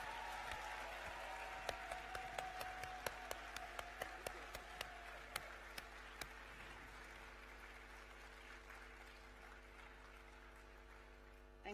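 Graduation ceremony audience at a business school giving a round of applause, a dense, distant clatter of many hands in a large hall, gradually thinning out as it continues.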